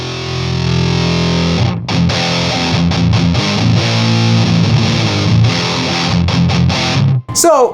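Heavily distorted electric guitar chords through a Fuzz Imp Sender pedal on full diode clipping ring out loud and compressed, strummed in a steady rhythm before a brief pause and a final scrape.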